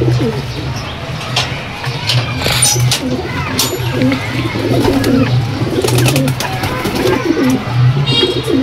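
Pigeons coo steadily at close range in a loft, a continuous low rolling murmur of several birds with occasional flutters and a brief higher chirp.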